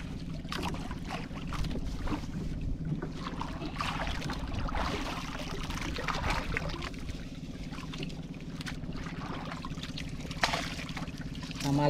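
A river current flows during a fishing trip, a soft continuous trickle and wash of water with a low hum underneath, close and quiet, with occasional faint knocks and brief talk.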